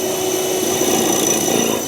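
A power drill boring into a concrete lintel runs continuously at close range, a steady loud grinding whine with no pauses.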